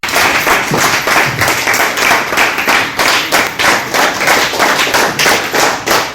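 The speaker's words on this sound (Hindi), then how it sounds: "जब सम्मानित किया जाता है तो मैंने पहले कहा था कि थोड़ा मुस्कुरा करके ताली बजानी पड़ती है" An audience claps in steady, rapid rhythm to honour the chief guest and management on stage at a Vision India Foundation ceremony. The close, continuous applause persists throughout without any voices.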